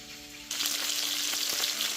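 Steady, loud sizzling of hake frying in a hot pan, starting abruptly after a quiet half-second and continuing with crackling pops throughout.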